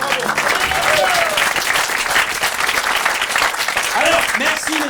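A Paris theatre audience gives sustained applause at curtain call; loud, dense clapping fills the whole stretch while people talk and call out over it.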